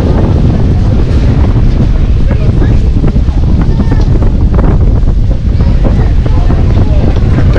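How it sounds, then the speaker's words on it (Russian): Strong gusting wind buffets the microphone on a seaside beach at Lazarevskoye near Sochi as a rainstorm approaches, a loud continuous roar with surf-like rumble; faint voices are barely present underneath. "Сильнейший ветер."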